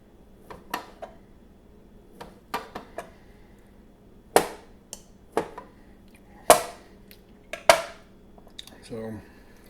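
A 5-inch Panawal khukuri knife makes fine, thin chopping cuts. Sharp, separate knocks come in small clusters and then singly, some louder than others, close up with quiet gaps and a low hum behind them.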